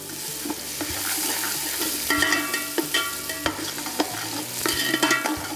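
Chopped onions sizzle and crackle in a hot pan with occasional stirring scrapes, steady and close, no voices, while cooking kheema kanji (minced meat rice porridge).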